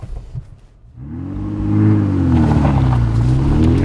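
A 2017 Honda Accord Coupe V6 accelerating hard, its engine note rising from a low idle into a loud, sustained rev that climbs and holds as the car pulls away.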